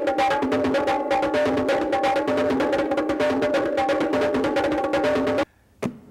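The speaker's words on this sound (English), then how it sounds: "this instrument sounds like this, called the bongos, and it sounds like this" Bongos played in a quick, steady stream of sharp, ringing hand strikes, close and loud, stopping abruptly near the end with a couple of faint taps.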